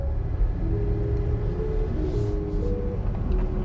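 A Jeep Gladiator pickup with a 3.73 rear axle ratio accelerates steadily, its engine rumbling low and continuous under a faint, rising drone of revs.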